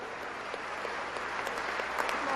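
Audience applause in a school gymnasium at a speech, a sustained moderate patter of clapping that swells slightly toward the end.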